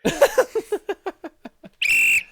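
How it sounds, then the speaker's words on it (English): A whistle blown hard during a quiz night, one long steady shrill blast near and loud, coming after a run of about a dozen short rhythmic clicks or taps. "Wait, I have a whistle on standby."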